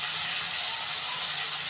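Washed, cut baby cabbage dropped into a hot pan sizzles with a steady, bright hiss that holds evenly throughout, close and fairly loud.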